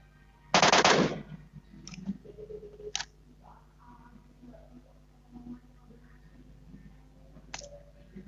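M4 rifle fire in an online battle-royale shooter game: one loud burst of rapid automatic shots, then a few single sharp reports and clicks over game ambience.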